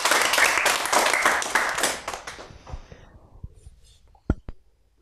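Applause from an audience at a children's and teens' celebration program, loud dense clapping for about two seconds that thins into scattered claps and fades, with a few sharp isolated taps near the end.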